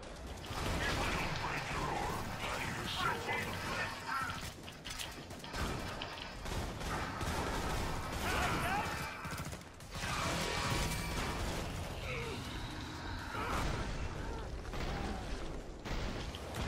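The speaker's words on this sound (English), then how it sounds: "Explosions everywhere." Killing Floor 2 combat on Pandemonium difficulty, with explosions going off everywhere. Dense, loud clatter of repeated bursts and mechanical gunfire runs throughout, with a player talking over the noise.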